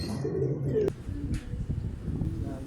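A racing pigeon arriving home during a club race lap in Santa Magdalena, Sorsogon, gives soft low coos close by, with a sharp click and outdoor rustling after.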